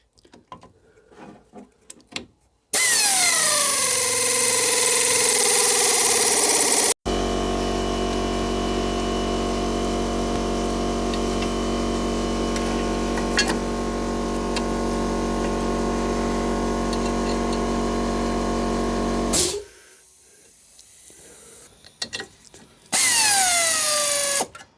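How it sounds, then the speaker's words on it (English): A tap or power tool cuts a screw thread into a bolt hole during repair work on a Rover 75, a steady loud mechanical whir running several seconds with short pauses and whining spin-ups at start and end. "Let's cut the thread first."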